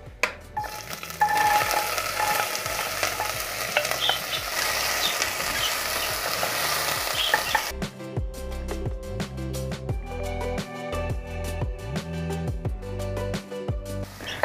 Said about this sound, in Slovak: Tak, pridáme tam našu zeleninu, keď máme už rozpálený olej.